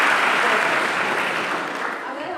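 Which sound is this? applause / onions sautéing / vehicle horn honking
applause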